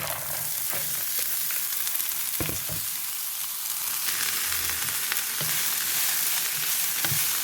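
Ingredients sauté in a pan until golden, giving a loud, continuous sizzle with occasional clinks and scrapes of stirring and no talking.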